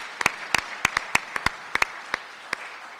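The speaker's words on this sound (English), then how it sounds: "I think they deserve a round of applause." Sparse applause from a small group at a community gathering: a dozen or so separate, fairly faint claps scattered irregularly over a few seconds, with no voices.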